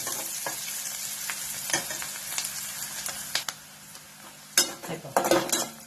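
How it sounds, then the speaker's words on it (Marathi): Chopped onion fries in a pan while a spoon stirs it, a soft steady sizzle with scraping and clinking strokes against the metal, sharper near the end. "कांदा चांगला भाजायचा जास्त पण लागतं नाही करायचा"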